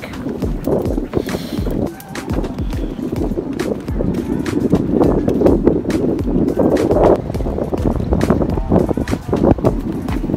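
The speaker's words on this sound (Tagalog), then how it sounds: "Sobrang lakas ng hangin." Heavy wind buffets the microphone in constant rough gusts in rainy, cold weather at Caliraya Resort Club, with clattering and faint voices mixed underneath.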